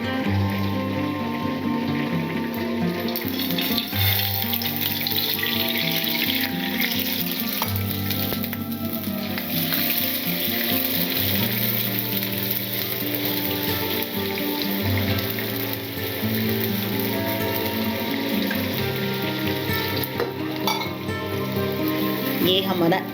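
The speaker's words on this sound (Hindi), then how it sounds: "अब इसमें थोड़ा सा दूध डालेंगे, 1 कप दूध।" Ghee sizzling and frying in a pan as a cup of milk is poured in for gajar ka halwa, a steady crackling hiss with stirring clatter that runs continuously at close range.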